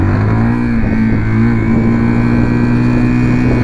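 Zontes 350GK motorcycle from 2022 on a test ride, its engine a loud, steady, close drone with a strong low hum and slight rising pitch, continuous throughout with no talk.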